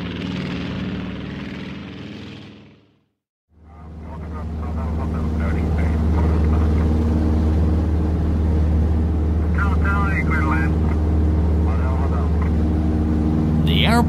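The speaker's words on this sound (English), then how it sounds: "The propeller began to spin, the biplane takes off." Cartoon biplane taking off as its propeller spins up, a steady droning engine and propeller tone building after a brief silence and holding loud, with a few short squeaky effects over it.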